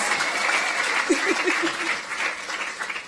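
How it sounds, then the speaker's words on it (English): An audience at a youth awards ceremony applauding, continuous dense clapping throughout, with a brief low vocal sound partway through. "Give yourselves a huge round of applause."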